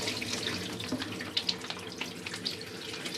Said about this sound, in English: Just drain out all the water.